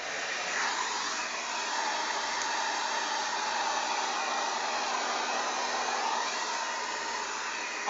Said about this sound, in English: I'm going to diffuse on low cool.